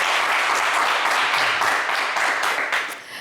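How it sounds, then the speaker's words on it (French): Studio audience applause on a French television game show, a dense steady clapping that stays loud throughout before tapering off near the end. "on va vous applaudir quand même très fort"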